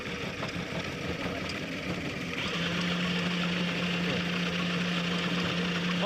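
A student-built hybrid bike engine starts up and runs steadily, settling into a constant mid-pitched hum with a sustained tonal drone alongside broadband mechanical noise, close and fairly loud.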